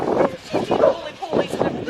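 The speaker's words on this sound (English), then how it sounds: "look at the wee dog, Emily." A small dog yaps in quick repeated barks, close and fairly loud, outdoors near a horse grazing field, with people talking over it.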